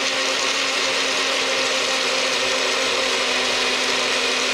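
Countertop blender whirring steadily as it purées a strawberry and pineapple smoothie, a loud, constant motor roar with a sustained hum that runs unbroken through the whole stretch.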